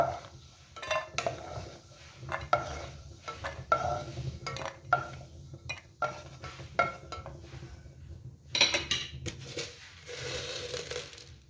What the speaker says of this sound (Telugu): ముందుగా జీడిపప్పు వేసి ఫ్రై చేద్దాం